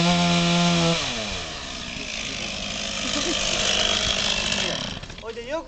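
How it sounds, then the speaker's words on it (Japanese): A chainsaw cuts wood, opening with a loud steady engine whine that drops as the chain bites in, followed by a rough, continuous sawing roar and a falling rev at the end. "これでよく切れるチェーンソー、こういうチェーンソーですね。"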